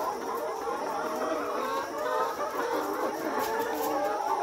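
Layer hens clucking together in a poultry shed at dawn, a dense, continuous murmur of many birds, some with a cold, at moderate volume without pause.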